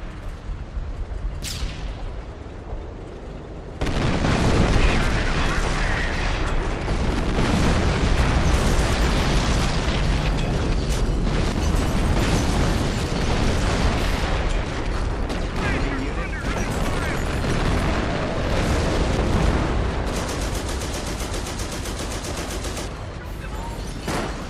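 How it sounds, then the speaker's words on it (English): Artillery barrage in the video game Company of Heroes: a dense, continuous roll of loud explosions and crackling blasts keeps going for about twenty seconds after a quieter opening, with game voices briefly heard. "Off map howitzer shoot. Coordinates received, sir. Artillery barrage commencing."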